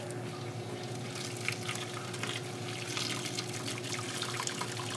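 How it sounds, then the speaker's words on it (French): Water runs from a tap while a small spatula is rinsed during home brewing of a Kölsch beer, a steady close splashing and trickling stream over a low background hum. "la petite spatule est rincée"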